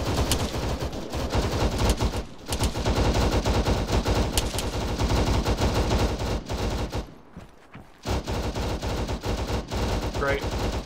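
Sustained automatic gunfire rattles from a bunker in Arma 3, dense and loud bursts hammering almost continuously with brief gaps, while voices talk over the shooting.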